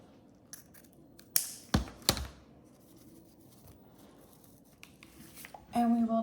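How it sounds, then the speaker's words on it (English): Scissors cutting a small craft piece for a Grinch coffee station decoration, heard as a few sharp close snips in quick succession over a quiet room, followed by a brief rustle of handling. "And I'm gonna cut this."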